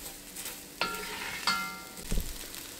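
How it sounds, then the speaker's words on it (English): Oxtails being stirred in a pot, a soft sizzle running underneath with a few scraping and clinking strokes of the utensil against the metal, quiet and close. "We're going to just stir that around a little bit until everything is combined."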